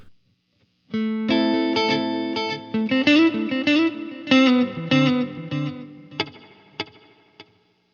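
Electric guitar played through a Line 6 Helix with spring reverb placed before the delay, a clean melodic phrase of plucked notes ringing out alone with washy repeats trailing off into sustained decay.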